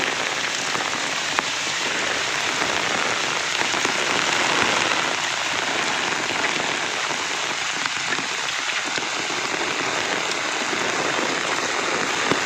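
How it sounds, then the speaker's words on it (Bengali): A hailstorm during a Kalbaishakhi storm, with large hailstones falling: a dense, steady roar of stones and rain pelting surfaces that stays loud and unbroken throughout, with no voices. "এই যে শিলা বৃষ্টি হইতেছে খুব বড় বড় শিলা পড়তেছে"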